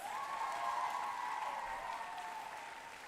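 Spectators at a school volleyball event between Union and Skyview give a steady round of applause, heard fairly faint and distant, fading slightly toward the end.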